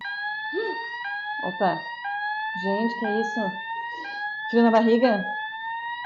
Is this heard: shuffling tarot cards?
no